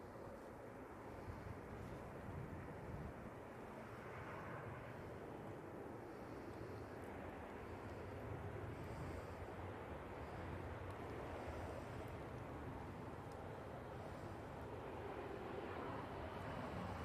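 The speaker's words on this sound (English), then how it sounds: "Ryanair 737 coming in from Belfast." A Ryanair Boeing 737 arriving from Belfast at Manchester Airport gives a faint, distant, steady jet rumble mixed with wind noise, droning evenly without breaks.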